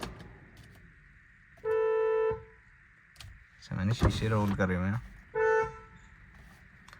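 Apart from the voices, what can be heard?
Hyundai Creta car horn honking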